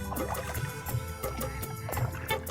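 A tin rowboat rowed across the Padma river, oar strokes thudding and splashing in an even rhythm over a constant background hiss, with no voices.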